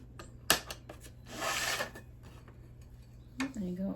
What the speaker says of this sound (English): I also sand the bottom of my mugs